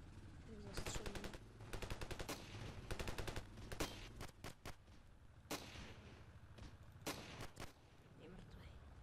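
Rapid bursts of automatic gunfire crackle in Ravenfield, a video game, with loud close volleys and single shots in uneven clusters and brief gaps between them.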